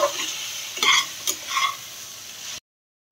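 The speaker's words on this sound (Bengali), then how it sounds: "বেগুনটা আলুটা আমি মিশিয়ে যাচ্ছে, ভাজা ভাজা হয়ে যাচ্ছে" Eggplant and potato frying in a pan sizzle softly while a utensil scrapes and stirs in a few short strokes, close and without talk, before the sound cuts off abruptly.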